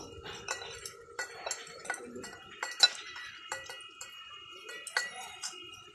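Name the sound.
mixing gram flour (besan) batter with salt and water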